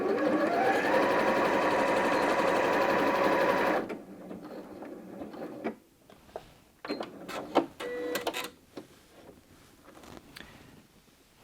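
A Janome M100 QDC sewing machine stitches a pattern in a fast, steady, close mechanical whir for a few seconds, then stops, followed by scattered clicks and light handling noises.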